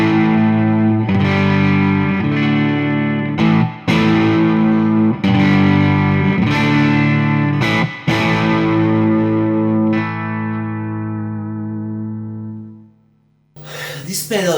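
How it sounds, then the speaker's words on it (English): Electric guitar through an overdrive pedal on a pedalboard, strummed chords with warm crunchy grit ringing out and decaying, then a brief scrape at the end, played alone and up close. "This pedal gives to me another kind of sound, some kind of overdrive"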